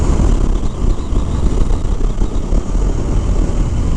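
A 2019 Triumph Scrambler 1200 XE motorcycle being ridden, heard as a dense, loud low rumble of engine and wind buffeting that stays steady throughout, with no talk.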